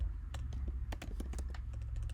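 Rapid, uneven clicks of fingers typing on a computer keyboard, close by and steady over a low background hum, with no voices.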